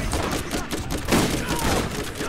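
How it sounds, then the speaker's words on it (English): Dense, continuous gunfire hits the player in the video game Borderlands, a loud sustained barrage of overlapping shots with no pauses, filling the whole moment. "I'm getting shot, bro."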